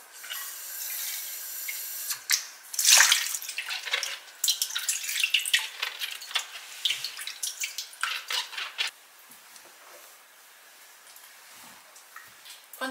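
Tap water running into a sink to mix with vinegar for washing fruit and vegetables, a steady splashing stream with bursts and drips, fairly close and alone without voices.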